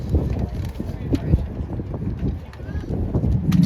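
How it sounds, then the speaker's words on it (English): Gusty wind buffets the microphone outdoors at a Chicago cycling memorial event, a low, rumbling roar that rises and falls, with voices faintly heard beneath it. "A bit windy today"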